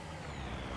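A semi-truck in the Farming Simulator video game gives off a steady, loud engine drone with a hissing, airy layer, continuous and close throughout.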